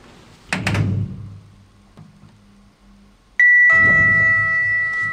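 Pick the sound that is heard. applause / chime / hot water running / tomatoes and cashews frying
chime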